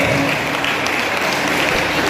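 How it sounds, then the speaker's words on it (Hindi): An audience at a school chess competition certificate ceremony applauds loudly and steadily, with dense, continuous clapping from a large crowd. "जोरदार तालियों से"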